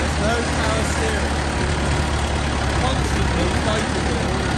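An old tractor engine runs steadily in a cattle yard, a loud, continuous low rumble with no break from start to finish.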